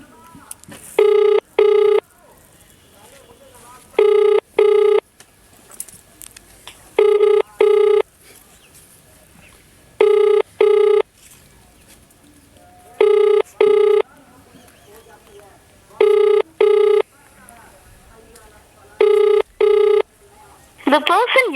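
Telephone rings on an outgoing call, seven paired ring bursts evenly spaced and loud, with quiet line noise between them and no voices.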